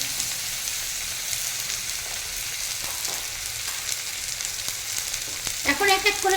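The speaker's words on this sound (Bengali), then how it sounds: "যাই হোক, টমেটোটাকে এখন ভালো করে ভেজে নেবো।" Tomatoes frying on high flame in a pan for a spicy giant freshwater prawn curry give a continuous, even hiss of sizzling oil throughout, with a brief tonal sound rising near the end.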